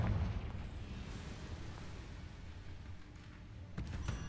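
Confringo spell explosion in Hogwarts Legacy, a loud low rumbling blast that fades into a sustained roar, followed by a fresh burst near the end.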